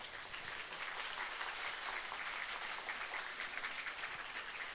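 Louder renewed audience applause at a Marathi-language gathering, a steady, dense patter of many hands that holds evenly for several seconds, still fairly distant and moderate in level.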